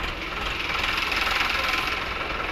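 A two-cylinder Eicher 364 tractor, a 2013 model, idling at a tractor market in Malout, a steady rough low chug close by with no pauses.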